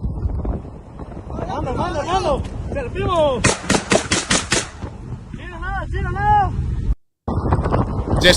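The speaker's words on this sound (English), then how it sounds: "Here's some cartel guys shooting from a moving vehicle." Cartel members fire guns from a moving vehicle in Mexico: a quick run of sharp, loud shots in a tight burst, with shouting voices and wind buffeting the microphone around it.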